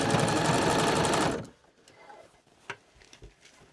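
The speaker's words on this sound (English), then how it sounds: "Now this is called sewing in the round." A domestic sewing machine hemming a gathered skirt runs in a fast, steady, close-up rattle for over a second, then stops, leaving quiet handling clicks and faint taps.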